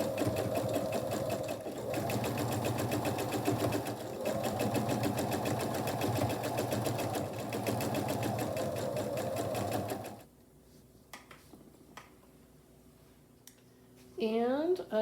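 A sewing machine runs steadily for about ten seconds, stitching a quarter-inch seam on a quilt block, then stops, leaving quieter handling noises.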